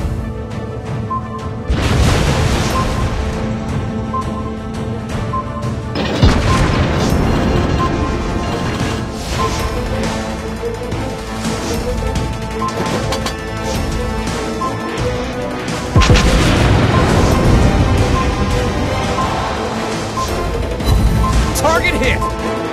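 Torpedo hits and heavy explosions in a World of Warships Blitz naval battle with the battleship Bismarck, loud crashing booms over a constant music and game-sound bed, with in-game voice announcements.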